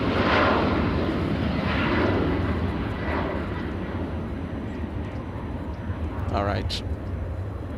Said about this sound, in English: There goes the WestJet flying back to Canada.